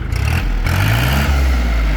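A used Kubota or Yanmar farm tractor diesel engine being revved close up, a loud steady roar whose pitch climbs as the throttle opens.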